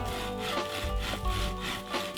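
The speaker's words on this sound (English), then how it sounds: "The saw's pretty quick." A hand saw cuts through dry wood at a Catskill Mountains campsite, giving close, steady back-and-forth rasping strokes in an even rhythm with no talking.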